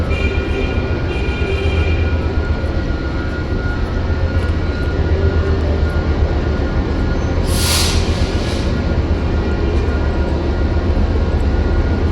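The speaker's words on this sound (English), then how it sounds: "The Amtrak trains run on the same tracks as the Metro trains" An Amtrak passenger train in Los Angeles rumbles steadily past nearby, a loud continuous roar with a brief hiss partway through.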